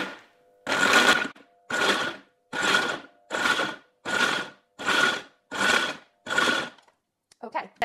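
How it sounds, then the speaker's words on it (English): A food processor crushes nuts for wild garlic pesto in eight short, loud, close pulses of roughly half a second, evenly spaced, followed by a faint clatter at the end. No one talks. "I'm gonna crush the nuts first"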